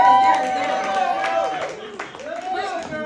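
Audience applause and crowd noise at a live stand-up comedy show, a broad wash of clapping and chatter mixed with the comedian's voice over it, steady and moderately loud throughout.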